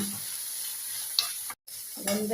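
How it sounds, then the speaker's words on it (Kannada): Corn chaat is mixed with chili powder and garam masala in a bowl: a quiet, continuous hiss with one sharp tick, a brief dropout, then a louder rustle of stirring at the end. "ಈಗ ಇದನ್ನೆಲ್ಲ ಚೆನ್ನಾಗಿ ಮಿಕ್ಸ್ ಮಾಡಬೇಕು."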